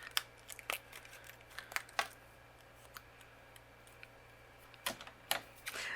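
Sharp clicks and snaps of a paper punch cutting out a card sentiment, several brief crisp hits spread unevenly over a quiet background with no talking.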